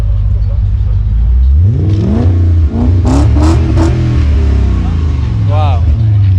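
A V8 car at a large car meet revs up hard, the engine climbing and dropping loudly several times up close while people talk nearby.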